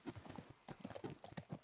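Horse hooves clop at a steady galloping rhythm in The Last of Us Part I, quiet and continuous with no voices over them.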